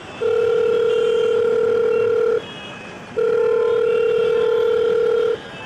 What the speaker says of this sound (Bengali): বেশ কিছুক্ষণ বাজার পর সুরজিৎ ফোন ধরল